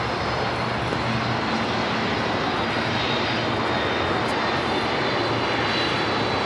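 A fixed-wing airplane taxiing toward parking on an airport taxiway, its engine giving a steady, continuous drone with a low rumble that holds unchanged throughout, no voices over it.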